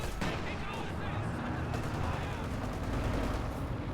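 A ZiS gun artillery barrage in the World War II strategy game Company of Heroes 2 lands as a steady run of booming impacts and crackling gunfire, quite faint and under a commentator's voice.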